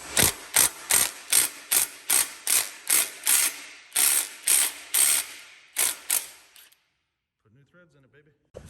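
Thread tap being turned with a ratcheting handle to cut fresh threads in a stripped bolt hole on a Honda 350X motorcycle, giving a loud, steady run of rhythmic clicks for about seven seconds, then quiet with faint sounds.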